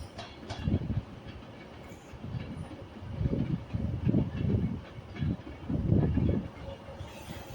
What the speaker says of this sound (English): Avanti West Coast heading off to London Euston